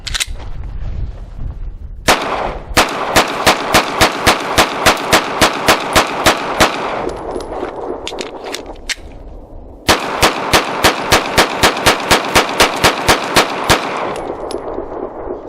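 A Ruger RXM 9mm pistol firing Federal rounds: two strings of rapid, evenly spaced sharp shots, loud and close, separated by a short pause for a magazine change, with no talk.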